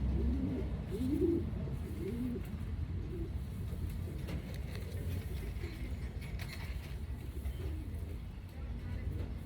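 A young racing pigeon coos softly in a few low, rounded bursts, faint against steady background rumble, with a voice talking quietly nearby.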